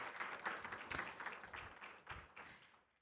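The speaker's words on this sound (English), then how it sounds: "So a special round of applause to everyone there." Scattered audience clapping at a student showcase event, fairly faint and uneven, with individual claps standing out before it fades away.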